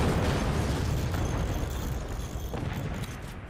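Howitzer shells exploding in the video game Forts, a dense, continuous rumble of overlapping blasts and booms that stays loud and steady throughout, with no talking.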